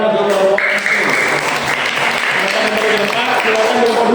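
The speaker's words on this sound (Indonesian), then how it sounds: "Tepuk tangan untuk kelompok" Loud, continuous applause from a class cheering a student group after its presentation in a classroom, steady throughout with a few voices mixed in.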